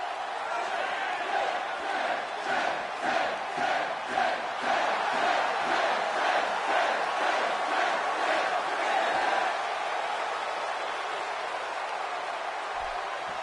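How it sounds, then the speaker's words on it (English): Arena crowd roaring and cheering in the WWE 2K18 wrestling video game, a loud, steady wall of voices with rhythmic surges, heard on its own without commentary over it. "Would you listen to this crowd?"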